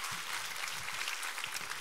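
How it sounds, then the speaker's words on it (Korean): A church congregation gives faint, distant applause during a Korean sermon service, a soft, continuous patter of many hands with no voices over it. "우리 하나님께 감사와 영광의 박수 올려드리겠습니다."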